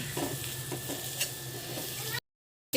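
A utensil stirs eggs with bitter flowers in a frying pan, soft scraping strokes over a quiet sizzle, close, then cutting to silence.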